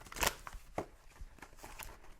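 A deck of tarot cards being shuffled once, with a few quick, soft riffling flutters and taps, close and quiet in an otherwise still room.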